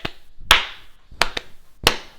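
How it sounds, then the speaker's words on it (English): Hand claps from a song ring out as a few sharp, isolated claps at an uneven pace, crisp and close with nothing else beneath them. "they have hand claps"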